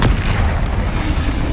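Heavy spell explosions from Bombarda and Confringo in the Hogwarts Legacy video game, a loud continuous low booming rumble with overlapping blasts throughout, no pauses.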